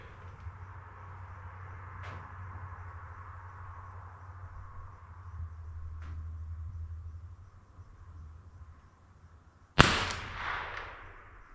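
A Marlin Model 25 rifle fires a single sharp, loud shot close by, with a brief ringing decay, after a long stretch of quiet low hum and a couple of faint ticks.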